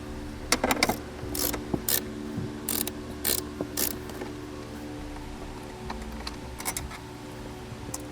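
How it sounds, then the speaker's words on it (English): Ratchet wrench with a 10mm socket removing a bolt beside a vehicle's parking brake, giving quick clicking bursts in short uneven strokes, close and fairly quiet over a steady background hum. "we're going to pull out the bolt that's located right here, just to the outside of the parking brake. Uses a 10mm socket"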